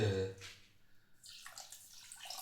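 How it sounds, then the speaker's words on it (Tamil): Water pours and splashes into a pan for gulab jamun sugar syrup, a rushing, bubbling stream following a brief low clunk at the start. "தண்ணி ஊற்றணும்"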